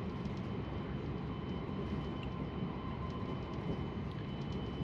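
Steady low rumble and hum inside a bullet train travelling to Kyoto, a continuous even drone of the carriage in motion with no voices.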